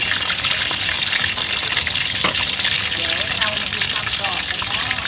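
Mullet fish frying with garlic in a pan of hot oil, a loud, dense, continuous bubbling sizzle heard up close, with faint voices in the background.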